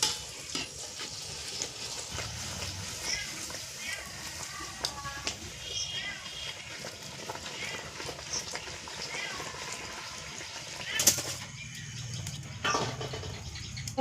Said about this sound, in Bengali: আপনাদের দেখানোর জন্য এখন একটা করে ছাড়া হচ্ছে, কারণ কমপ্লিট ভাজা তো আপনাদের দেখাতে পারবো না